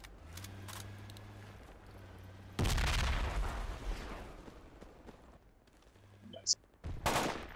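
Gunfire in the Project Reality video game: a sudden loud burst of shots and an explosive boom with lingering rumble, followed by a quieter lull, then more close bursts of fire near the end, with faint voice chat.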